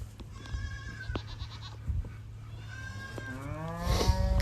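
Goats on a farm, including baby goats in a maternity pen, bleat repeatedly at close range, with several overlapping calls that grow louder toward the end, over a steady low background hum.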